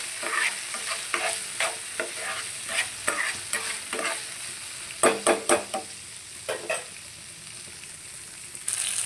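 Green chilies and cumin seeds fry in a pan for chutney while a spatula stirs them, making a steady sizzle broken by a run of distinct scraping strokes, close and clear, with no talking.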